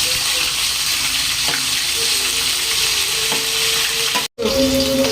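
Ginger garlic paste frying in hot oil in a pan for restaurant-style chana masala gives off a steady, close sizzle with a brief dropout near the end.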